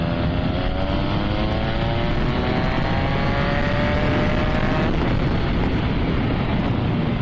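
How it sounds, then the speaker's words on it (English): A 2014 Yamaha MT-09 motorcycle cruising steadily in fifth gear, its engine droning loud and continuous with rising harmonic tones that climb smoothly as it rolls on, heavy wind rush throughout and no talking. "That's in 5th, and we're just rolling on."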